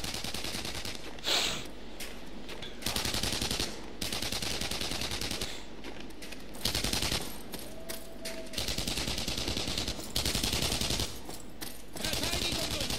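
Gunfire in the video game Enemy Front at a fortress at Oscarsborg, with repeated bursts of rapid automatic fire broken by short pauses, loud and close, plus scattered single shots across the whole stretch.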